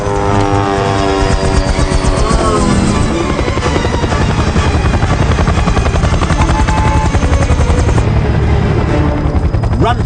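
A helicopter in flight roars continuously and loudly up close, its rotor beating in a steady rapid chop with engine whine throughout and no other sound rising above it.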